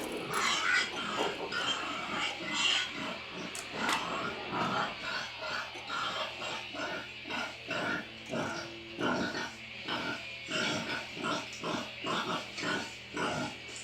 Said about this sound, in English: looks like there's a pig in there. So there's a randomized sound that happens when you hit that.